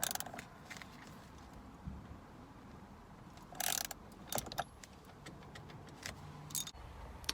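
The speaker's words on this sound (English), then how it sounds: "then you want to go through with a ratchet and tighten it as hard as you can" A ratchet tightening the steering wheel center bolt on a 1997 Jeep Cherokee, with quiet close clicking bursts and several short ratcheting runs separated by pauses.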